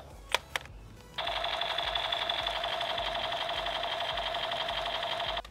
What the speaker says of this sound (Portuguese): quando você aperta o gatilho, barulho de como se você estivesse atirando de verdade